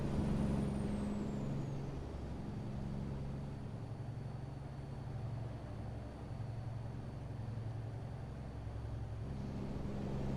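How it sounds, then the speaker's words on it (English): A heavy Kenworth W900 truck engine in a video game rumbles steadily and loudly throughout, heard from outside the cab, with a sharp hiss of air brakes, no voices. "The truck is louder outside, but it's a completely different sound when you're inside it."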